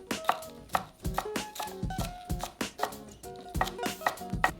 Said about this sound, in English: And then just cut these into little ribbons.